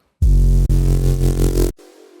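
A deep synthesizer bass note made in Serum 2 plays loud and alone, briefly dipping once, then swelling slightly before stopping sharply with a quiet reverb tail.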